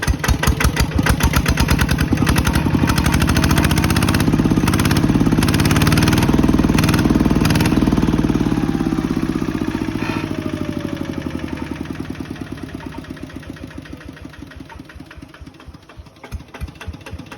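An RT 90 motorcycle engine with a Siam frame idles steadily and loud nearby, a fast even putter that holds for most of the stretch, then eases slightly toward the end, with no talk.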